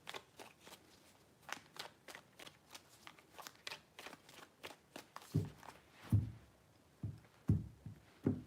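Tarot cards are shuffled quietly in a rapid series of soft, crisp riffles and taps, with heavier thumps of the deck near the end.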